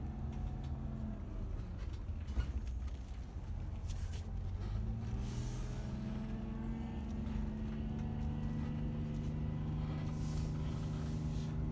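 A vehicle climbs a steep, banked hill with a turn, its engine a continuous low drone that shifts pitch as it labours upward, close and steady throughout with no voices.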